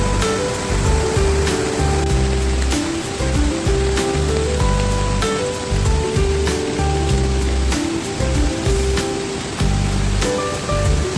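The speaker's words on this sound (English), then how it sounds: "Rain continues till morning, didn't manage to visit the waterfall." Heavy rain pours steadily at a riverside campsite in the forest, a loud, continuous hiss and patter close by that never lets up.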